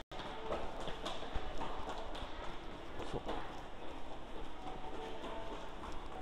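A train passing by, heard as a continuous rattling rumble with rhythmic clatter of wheels, moderately distant and fairly quiet, steady for several seconds without pause.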